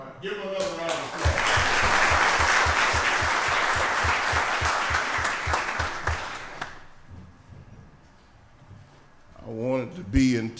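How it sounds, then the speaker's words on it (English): A board of commissioners meeting bursts into sustained applause for a retiring veteran, many hands clapping loudly for several seconds before it fades into quiet room tone and a voice resumes speaking. "Give him another round of applause."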